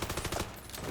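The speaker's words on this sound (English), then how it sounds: "He started shooting right away." A quick, faint burst of rapid video game gunfire rattles in a tight, even rhythm, then fades within a second.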